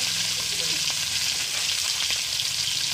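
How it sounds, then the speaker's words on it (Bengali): Rohu fish pieces fry in hot oil, a loud, dense, continuous sizzle with light spatter close by for the whole stretch. "এক এক করে মাছগুলো ভেজে নিব"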